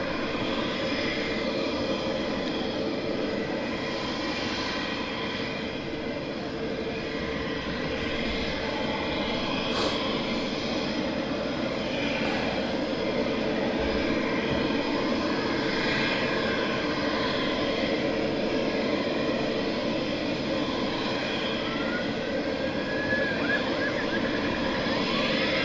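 An aircraft departing Southend Airport roars continuously with broad engine noise, heard from close by and sustained without pause.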